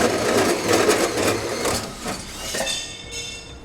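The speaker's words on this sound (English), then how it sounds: "Now it's time to grab our 4-inch hole saw and get it drilled out." A 4-inch hole saw cuts through the steel bed rib of a 2016 Chevrolet Silverado pickup, a loud close grinding buzz with rhythmic chatter that fades as the cut finishes.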